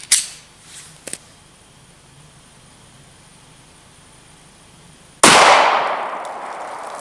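Pistol fired during a Sig V-Crown 147gr ammunition test: a faint sharp crack at the start, a couple of small clicks, then one loud close shot with a long decaying echo near the end.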